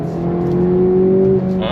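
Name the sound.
2025 Acura Integra Type S engine accelerating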